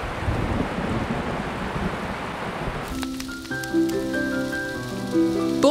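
Rain and rumbling thunder from a Postman Pat cartoon: a steady broadband downpour fills the first half, then gives way to a sustained musical score with held tones while the rain hiss fades beneath it.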